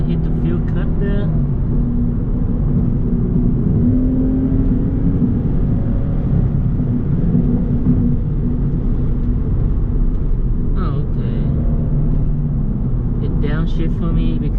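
A 2015 Lexus IS350 AWD heard from inside the cabin with a steady engine and road rumble as it accelerates and shifts gears in sport mode, with someone talking over it.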